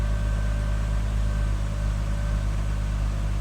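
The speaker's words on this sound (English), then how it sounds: "It sounds very smooth and healthy so far, just idling." A Toyota MK3 Supra engine idles, freshly fitted with an upgraded Aisin oil pump, giving a steady low hum and drone that stays even and close throughout.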